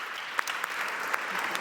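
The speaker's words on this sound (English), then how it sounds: "This is your applause." A conference audience at an equality and inclusion session applauds steadily, a soft, even wash of many hands with a few sharper claps standing out, heard at a moderate distance.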